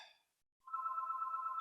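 A telephone rings in short electronic bursts, one tone fading at the start, then a brief gap, then a steady sustained ring. It is clear and near, with no talk.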